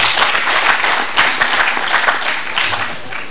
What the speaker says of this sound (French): Je voudrais donc nous autoriser à nous applaudir pour tout ce que nous avons fait pour cette session.